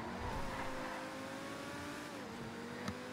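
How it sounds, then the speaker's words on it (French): Car drifting with skidding tires in GTA 5 Online, a steady engine drone with a sustained tire squeal holding throughout, close and continuous, with a brief bump near the end. "C'est vrai que c'est une voiture qui dérape bien ça"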